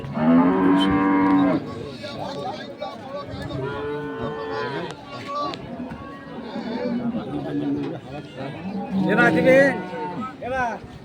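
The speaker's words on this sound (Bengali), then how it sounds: "আরেকটি গরু দেখছিলাম" Dairy cows and calves moo repeatedly at Ambari cattle market in Dinajpur, several long lowing calls rising close by amid steady crowd chatter and people talking.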